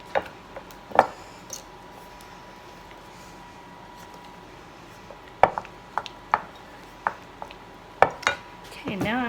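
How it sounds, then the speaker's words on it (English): Cheese salt being mixed into fresh curds for homemade Gervais cheese: sparse scraping and clinking of a utensil against a bowl, a few sharp knocks near the start and a busier cluster of taps and scrapes toward the end. "I put in just that little bit of cheese salt, and I'm going to mix it in well"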